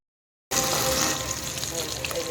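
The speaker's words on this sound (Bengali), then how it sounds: "আর এই হচ্ছে বিট গাজর আলু সব দিয়ে একটা ভাজা বসিয়েছি" After a moment of silence, a pan of beetroot, carrot and potato starts sizzling loudly, a dense close frying hiss that continues steadily to the end.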